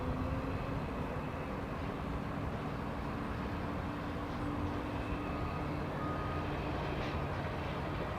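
A truck reverses near an airport during plane spotting, its backup beeps repeating steadily as faint tones over a constant low rumble of engines and distant traffic.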